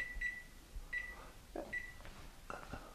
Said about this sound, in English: I'm going to set a timer up here on the microwave for 20 minutes.